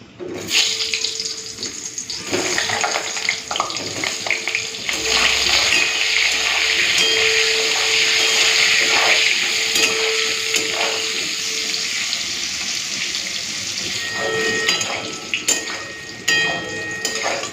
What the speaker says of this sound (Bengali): তেলটাও গরম হয়ে গেছে বেগুনগুলো দিয়ে দিই